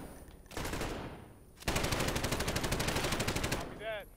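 Bursts of rapid automatic gunfire from the Call of Duty Modern Warfare campaign, loud and continuous, first a short stretch and then a longer sustained volley, with a brief game sound at the end.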